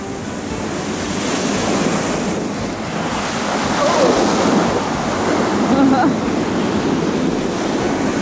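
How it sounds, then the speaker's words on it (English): Surf crashes and rolls steadily along an Irish Sea shore, a broad continuous wash of breaking waves with wind buffeting the microphone throughout. "And the waves, they are crashing today."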